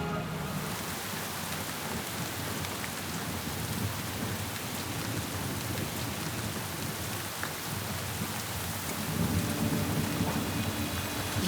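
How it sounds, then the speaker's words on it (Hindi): Heavy rain pours down steadily with a deep rumble of thunder running beneath it, a dense continuous wash of noise that swells slightly louder near the end. "इतनी खतरनाक बारिश"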